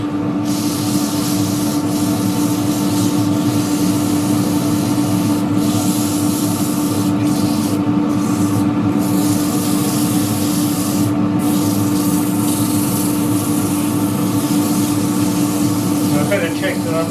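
Sandpaper of 180 grit rubbing a spinning wooden dish on a lathe, a steady close rasping hiss over the constant motor hum, continuing unbroken throughout.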